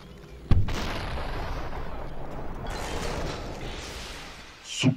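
A single heavy shotgun blast fires in the slow-motion shooter game SUPERHOT, a sharp loud onset followed by a long rumbling tail, with a second burst starting at the very end.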